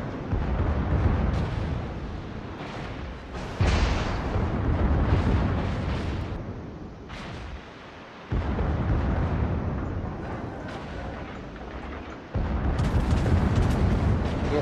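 Booming salvos of 11-inch naval guns fire in a video game battle. Heavy explosions hit every few seconds, each followed by a rolling rumble that fades before the next loud blast.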